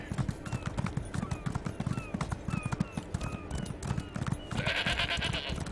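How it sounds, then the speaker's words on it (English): Horse hooves clip-clop steadily in The Elder Scrolls Online video game, set in the Alik'r Desert, followed by a brief goat bleat near the end amid game ambience. "Goat."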